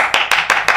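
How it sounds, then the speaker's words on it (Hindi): Four quick, loud hand claps from an audience land in a tight, even rhythm, close and clear over a short burst. "ताली बजा ताली"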